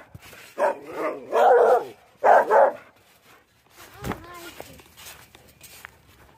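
A dog barks in two or three loud, close bursts, followed by quieter shuffling and footsteps, and a person's voice can be heard talking at points.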